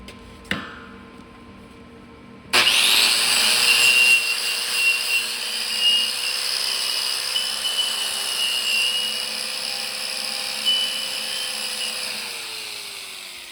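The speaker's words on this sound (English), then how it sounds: "I'll wire wheel that out real quick" A wire wheel brushing out the inside of a 4-inch round metal pipe: a sharp click, then the tool spins up into a loud, steady whirring scrape that slowly eases off near the end.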